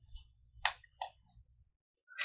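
Sharp computer mouse clicks while drawing and shaping a round farm-hut model in web-based SketchUp, a few separate clicks spaced out over a faint low hum, with no talking.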